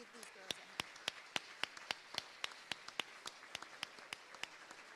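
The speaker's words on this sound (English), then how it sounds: "Let's give these girls a hand" Sparse, steady clapping from an audience at a school sports awards ceremony, saluting the cheer team: sharp individual claps, fairly faint and evenly spaced, with no voices over them.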